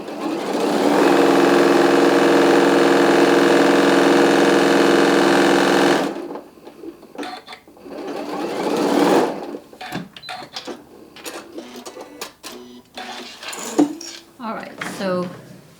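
Sewing machine running a loud, steady high whir for about five seconds as it stitches thick fabric for a shark, bass or mermaid stocking, then stopping, followed by handling clatter and talk.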